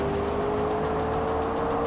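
A car passes by on a street during a drive, a steady engine and road roar with a sustained tone, moderately loud and continuous throughout, no talking.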